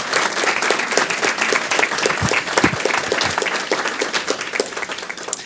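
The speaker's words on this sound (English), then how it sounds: "You can clap" A school district awards ceremony audience breaks into steady applause for a leadership award recipient, a dense wash of many hands clapping close and loud, with a few heavier individual claps standing out, continuing throughout.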